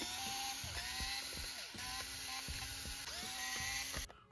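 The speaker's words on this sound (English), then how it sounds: "To take it off, we'll remove 8 screws." Screws being removed from the LED and charging cover of a JBL Grip speaker with a small powered driver: a continuous high whine with repeated ratcheting clicks, close and steady.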